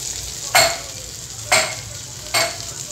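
Rava-coated bombil fish fry in oil, a steady close sizzle broken by three sharp bursts of spitting as pieces are flipped, with no talk.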